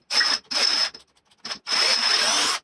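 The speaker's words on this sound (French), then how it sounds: "apparemment elle a quelques difficultés à percer avec du 10" A Parkside 12V cordless drill, the older D2 version, running a 10 mm bit with a high motor whine in four bursts. The bursts are short, short, brief and then sustained, with pauses between them.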